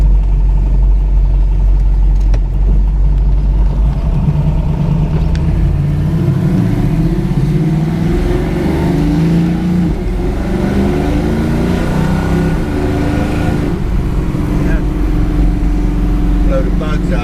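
A Chevrolet Nova on an autumn car show drive revs hard with a loud, close engine roar that climbs and drops as it shifts through gears, while people talk over it.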